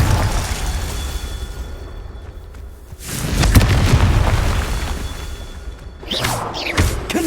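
Explosive Confringo spell blasts in the Hogwarts Legacy video game, a loud booming burst near the middle followed by a second crackling blast toward the end, layered over continuous game ambience.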